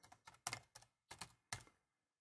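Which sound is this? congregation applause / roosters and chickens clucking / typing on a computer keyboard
typing on a computer keyboard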